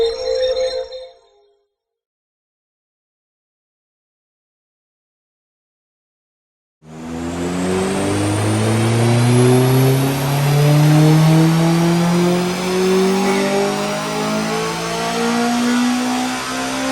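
A tuned Honda Civic Type R EP3 with a K20 engine, 5-inch exhaust and induction kit on a dyno: after a brief sound and several seconds of silence, the engine roars in loud and close, revving hard and holding a rising, sustained note.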